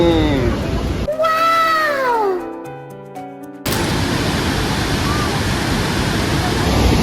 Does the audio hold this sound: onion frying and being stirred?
no